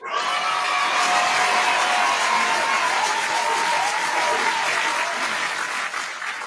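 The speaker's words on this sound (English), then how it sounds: "That round of applause for Sean Fresh." A round of applause from a studio audience on a hip-hop mixshow, a steady, dense burst of clapping that holds loud and even throughout and then eases off slightly at the end.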